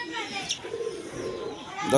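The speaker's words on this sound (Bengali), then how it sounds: "হাই ফ্লাইং কবুতর এটা নর কবুতর" High-flying pigeons coo softly nearby, a male among them, low rolling calls with a brief chirp near the end.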